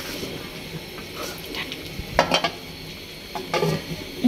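A sponge gourd and shrimp curry is stirred in a pan near the end of cooking, giving soft scraping and a few light clinks over a faint background sizzle.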